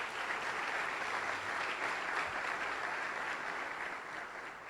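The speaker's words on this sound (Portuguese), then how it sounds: "Vamos aplaudir o Senhor, o chamado pastoral." Church congregation applauding in praise, a steady wash of many hands clapping at moderate distance, evenly sustained for several seconds before easing slightly at the end.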